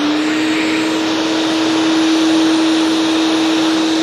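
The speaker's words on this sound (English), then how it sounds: "we did want to show on the vacuum how the dust collection works" A vacuum cleaner sucks up a pile of dust up close, giving a loud, steady roaring whoosh with a constant motor hum throughout and no talking.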